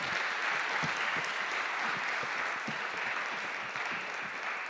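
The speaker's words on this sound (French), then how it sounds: "Merci de les applaudir." An audience claps in a dense, steady burst of applause that holds for several seconds.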